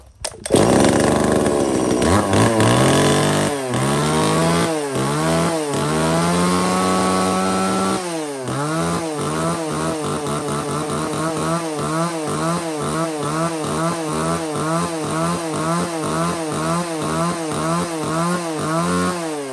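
A chainsaw engine starts up loud and close, revs and settles, then idles in a rapid, rhythmic pulsing putter that continues steadily.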